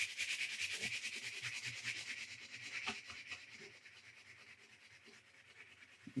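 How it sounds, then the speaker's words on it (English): A Gladiator build piece is hand-sanded with a steady, scratchy rubbing hiss in repeated back-and-forth strokes, close and fairly quiet with no voices. "So we're going to sand this area."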